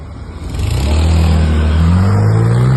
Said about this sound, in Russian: Парковка полная, машины едут нескончаемым потоком.